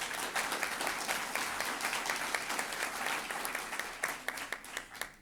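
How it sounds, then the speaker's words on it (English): Audience applause at a Women's History Month celebration, a steady mass of clapping hands heard from a moderate distance, with a few sharper individual claps standing out toward the end. "Let's give her another round of applause."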